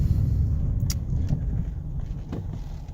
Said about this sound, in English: when I press the gas a little bit harder, the engine starts, and it runs